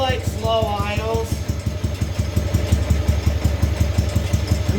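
A motorcycle engine idling slowly, with an even, low, thumping beat that stays close and steady throughout, while someone talks over the opening moments.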